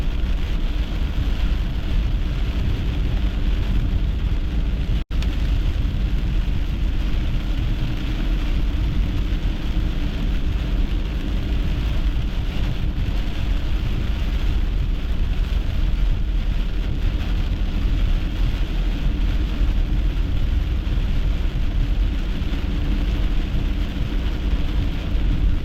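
Steady, dense rain pours without a break during a thunderstorm with lightning, with a low rumble of thunder mixed into the constant wash of noise.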